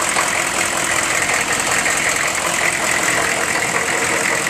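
A 1996 GMC pickup's 6.5-litre turbo diesel, past 200,000 miles, idles with a steady, even clatter and low rumble, close and continuous with no talking.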